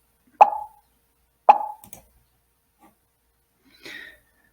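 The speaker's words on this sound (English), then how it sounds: "So when we play it, you hear a pop and it's random everywhere, anywhere from between 1 to 4 seconds." Short cartoon pop sound effects from a Scratch program fire at irregular intervals: three crisp, isolated pops and a softer fourth blip, each alone against silence.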